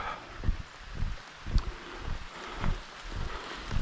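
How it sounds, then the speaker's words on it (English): Light rain beginning to fall during an outdoor walk, a soft spattering hiss with irregular gusty swells and rustling bursts close to the microphone. "It's starting to rain. I'm sure you can hear that."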